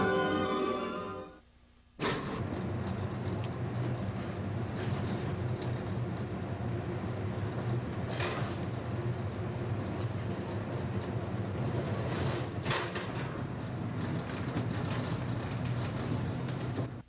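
The Greenbrier LTD passenger train rolls along the rails with a continuous steady rumble and a few sharp clanks, heard from on board after a brief quieter moment at the start.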